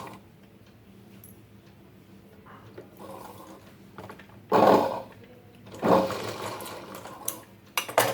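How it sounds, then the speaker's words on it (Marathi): A sewing machine stitching a Paithani silk blouse: quiet mechanical ticking at first, then two loud bursts of rapid stitching, then a brief clatter at the end, close up with no voices. "हे बघा अशा प्रकारे शिलाई मारून घ्यायची"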